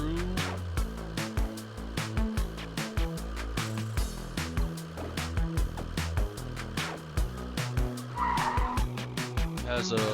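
A delivery car drifts in the video game DeliveryRush, its tires squealing and skidding under a busy layer of game music, with engine noise throughout.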